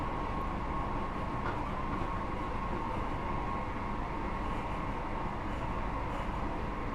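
A Scotrail Class 158 diesel train in Train Sim World 4 coasting with power shut off, a steady rumbling rail roll with wheel noise and a faint tonal hum, continuous and fairly close, no talking.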